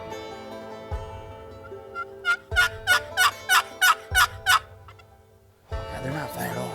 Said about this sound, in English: that last gobble was over here